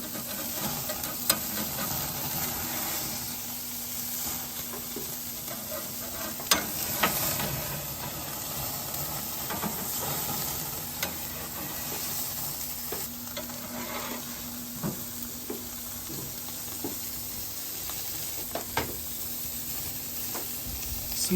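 Burgers, including a reverse-seared one, sizzle on a grill in a steady frying hiss with occasional pops and faint clicks, close and continuous with no talking.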